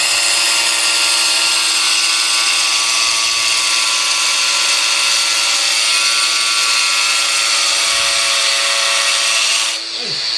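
A power tool grinds continuously through ceramic tile on a tiling job site, a loud, close, unbroken high whine that cuts off near the end.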